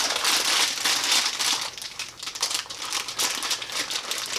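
A packet of Maynard's Wine Gums being opened, with loud close-up crinkling and crumpling of plastic wrapper that fades briefly midway before resuming.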